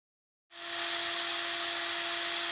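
A high-pitched drill whines on abruptly and holds a steady, loud, tonal spin with no talking over it.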